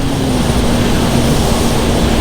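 A 2021 Honda CB150R motorcycle is ridden at high revs in upper gears, a loud, continuous engine roar blended with rushing wind noise and no pauses.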